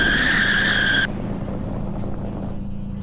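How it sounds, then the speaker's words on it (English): A car in the Roblox video game brakes hard from speed without anti-lock brakes, giving a loud high tire squeal for about a second that cuts off into a lower engine rumble. "Let's check the braking."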